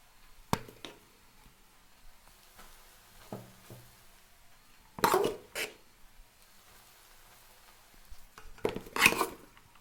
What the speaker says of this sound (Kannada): ಇವಾಗ ರೈಸ್ ಹಾಕ್ಕೊಳ್ಳೋಣ